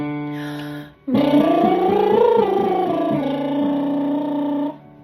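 A tenor voice doing a buzzing lip trill warm-up, sliding up and down in pitch through a sustained phrase, after a brief lower trill.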